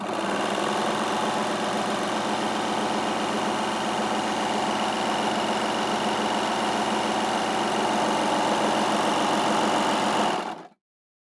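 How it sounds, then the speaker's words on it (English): A Baby Lock Victory overlocker sews a 3-thread rolled hem on cotton, giving a loud, steady, high-speed mechanical whir that runs unbroken for about ten seconds before stopping abruptly. "I'm just going to sew the 3-thread rolled hem on the cotton."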